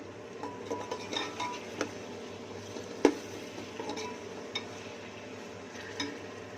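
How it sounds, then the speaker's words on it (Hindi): Masala roasts in a pot with tomatoes while a spoon stirs it. The quiet background frying carries sporadic light clinks and scrapes of the utensil against the metal, with one sharper knock near the middle. "मसाले की हमने भुनाई करनी है"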